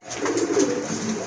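A pair of sky-blue Rajgolla pigeons coos briefly up close, a soft, throaty rolling sound heard alone.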